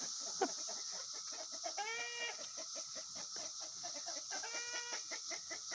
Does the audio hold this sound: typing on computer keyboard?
no